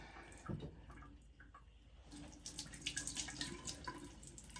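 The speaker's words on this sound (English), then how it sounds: "just put water on my face" Tap water runs and splashes as someone rinses their face at a sink, a close, continuous wash that swells louder toward the end, with no talking.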